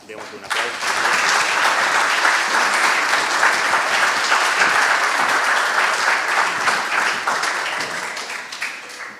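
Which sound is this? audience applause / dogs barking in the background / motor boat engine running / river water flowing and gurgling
audience applause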